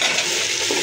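Onions and tomatoes fry in a pan for chicken biryani, making a brief, close, even sizzle with a hint of stirring and no speech.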